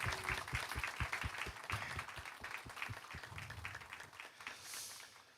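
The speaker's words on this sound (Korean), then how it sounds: "박수해 주시기 바랍니다" A church congregation applauds during a Korean Presbyterian award and graduation ceremony, a quiet, steady patter of many hands clapping at a distance, thinning out toward the end.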